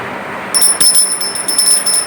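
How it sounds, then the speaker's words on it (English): A bright, sustained high ringing tone starts abruptly and holds steady, with a faint metallic shimmer, loud and close, alone without voices. "This is a bell."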